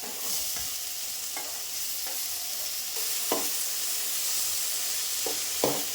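Onions and tomato stir-frying in a pan, a steady close sizzle and hiss broken by occasional scraping strokes of a spoon, with no talking.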